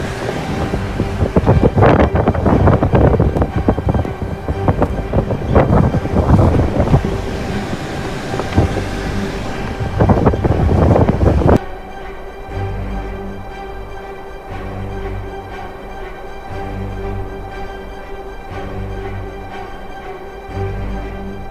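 Strong blizzard wind from a severe bomb-cyclone snowstorm in the United States roars in loud, turbulent gusts, then abruptly gives way to a quieter, steadier low rumble with a faint hum for the remainder.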